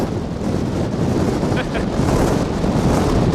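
Strong outdoor wind buffets the microphone on a prairie trail in early spring, a loud, continuous low roar that drowns out everything else for the whole stretch.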